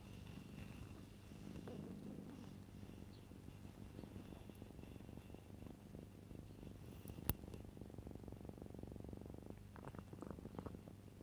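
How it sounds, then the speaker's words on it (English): A pet cat purrs close into a microphone, a low continuous rumbling drone that holds steady for several seconds, with a soft click and faint rustles near the end. "Should I try and get Sweetie to purr on my microphone"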